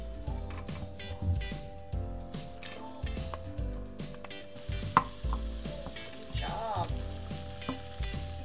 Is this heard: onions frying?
yes